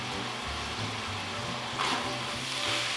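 Food sizzles steadily as it cooks in an Instant Pot for zuppa toscana, the onion frying in close, continuous crackle with faint stirring.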